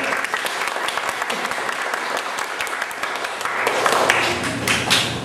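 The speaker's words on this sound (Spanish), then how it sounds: "Un aplauso a María Paulina." A small gathering claps for a girl at her first communion, with scattered, uneven handclaps that swell slightly toward the end and a few voices mixed in.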